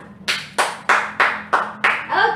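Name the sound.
class applauding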